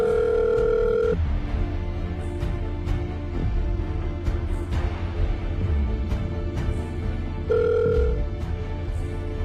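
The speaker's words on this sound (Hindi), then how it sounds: "कब से फोन लगा रहा हूँ, फोन क्यों नहीं उठा रहा?" A phone call rings unanswered: two evenly spaced ringback tones, one at the start and one near the end, sound over a long stretch of background room noise with faint ticks.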